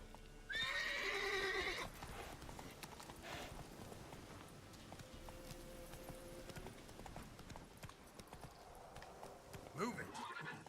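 Roach, a horse in the Witcher 3 video game, lets out a loud whinny followed by rhythmic hoof clip-clops, another whinny near the end, with a game tone in between.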